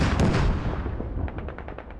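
Rockets slam down and explode close by in the Squad Ops battlefield game, a heavy booming blast up front followed by a string of sharper cracks and rumbling detonations fading through the rest.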